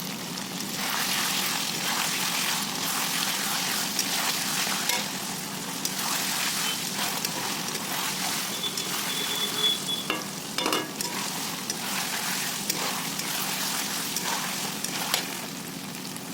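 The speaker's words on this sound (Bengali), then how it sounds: "এখানে আমার মাংসটা আদার সাথে ভালোভাবে ভাজা হয়ে গেছে তেলের উপরে দেখুন" Chicken pieces with ginger fry in hot oil in a pan, giving a steady, close sizzle with occasional crackles and stirring scrapes throughout.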